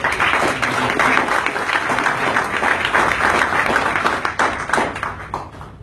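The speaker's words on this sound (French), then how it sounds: "J'aimerais que vous les applaudissiez très fort" A conference audience gives the organising team a long, loud round of applause at a debate on Algeria's prospects, with dense clapping steady throughout and no voices over it.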